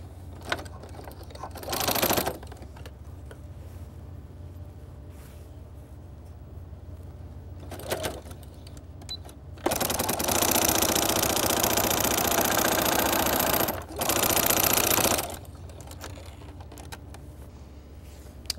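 Sewing machine stitching fabric straps for a country apron, running in several bursts of steady mechanical whirring. The longest run is loud and close, with quieter gaps between them.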